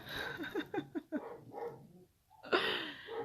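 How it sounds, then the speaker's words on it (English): A giant 125-pound dog barks and whines indoors in a quick series of close, yelping calls, pausing briefly before one more louder bark. "I apologize for my dog, you guys."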